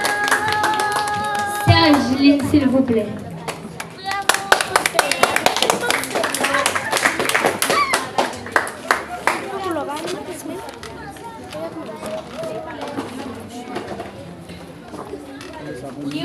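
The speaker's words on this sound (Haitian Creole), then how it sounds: "Applaudissez pour nous." An audience at a children's event applauds, with a burst of many hands clapping that swells and then thins into scattered claps and chatter, while people talk over and after it.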